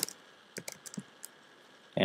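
A short search being typed on a computer keyboard: a few quick, light key clicks in an irregular rhythm, close and quiet, then a louder burst at the end.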